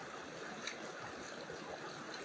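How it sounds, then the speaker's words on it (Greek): A loud river stream flows in a steady, dense rush of water, close and continuous, with no break or quiet moment across the short stretch. "Ελπίζω να ακούγεται γιατί το ποτάμι είναι πολύ δυνατό εδώ σε αυτό το σημείο"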